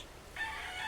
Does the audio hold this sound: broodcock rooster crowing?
yes